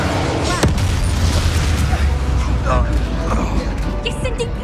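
A Confringo fire spell in Hogwarts Legacy bursts as a loud, dense booming blast over continuous crackling and rumbling combat noise, with brief voices in the mix.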